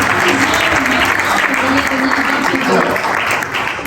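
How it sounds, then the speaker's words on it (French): Audience applauding steadily at an awards evening for a humour and politics press club prize, a dense continuous wash of claps with a voice over it. "Applaudissements pour Thierry Solaire."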